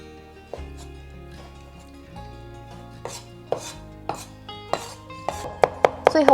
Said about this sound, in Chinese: 我要准备剁肉碎。